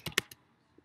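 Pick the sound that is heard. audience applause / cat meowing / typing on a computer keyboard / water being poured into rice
typing on a computer keyboard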